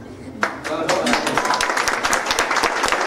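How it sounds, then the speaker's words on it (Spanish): An audience breaks into applause after congratulations at an event, a dense burst of claps starting sharply and continuing under talking voices. "Felicitaciones para ellos, un aplauso."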